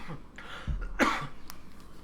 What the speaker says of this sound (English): excuse me, I gotta cough a bit